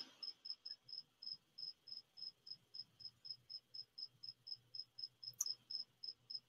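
Crickets chirp in a steady, evenly spaced pulse that repeats about three times a second, clear and close over a quiet background with a faint low drone.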